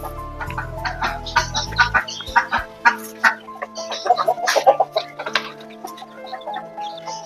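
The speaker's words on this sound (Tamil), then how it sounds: "இங்க வந்து வாத்து, கோழி இதெல்லாம் வளர்த்துட்டு இருக்காங்க." Chickens, with ducks kept alongside, clucking in a backyard garden behind a house in Kattur, Trichy: a busy run of short, irregular clucks and squawks, close and fairly loud, with a low hum early on and no talk.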